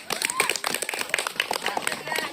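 Students at a school reading event applaud with a steady patter of many claps at moderate distance, while a voice speaks over it.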